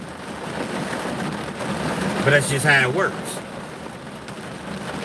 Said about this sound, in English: Beautiful sound of the rain.